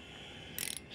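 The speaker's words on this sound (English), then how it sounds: "I just hold the socket and I spin it like 5 times or 6 times, and it comes right off." A small 7/32 socket is spun by hand to back out a fastener, giving a brief burst of light metallic ratcheting clicks near the end of an otherwise quiet, close moment.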